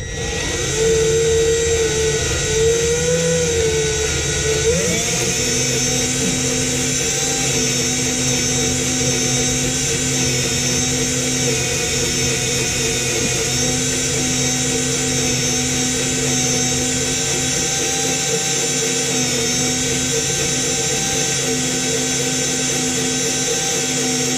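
A high-speed steel bit drills into a Jeep TJ underbody, giving a loud, sustained motor whine whose pitch shifts early on and then settles into a steady drone for the rest of the stretch, with no talking.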